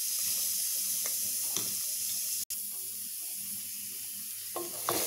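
Ginger, garlic, onion and cashew paste sizzles steadily in hot oil for a chicken dish, a continuous hiss with a few faint clinks, no voices.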